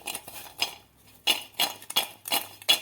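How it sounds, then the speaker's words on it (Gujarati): Spiced masala being tossed and stirred into hot fried raw-potato kurkure crisps in a metal vessel, giving a series of close, bright clinking and scraping bursts in an irregular rhythm with short pauses, no talk. "તો આ રીતે થોડોક મસાલો નાખી અને સારી રીતે મિક્સ કરી દેવાનો"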